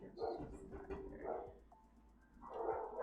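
Dogs barking at a delivery person at the door, giving a few muffled barks and yips that sound faint and somewhat distant indoors.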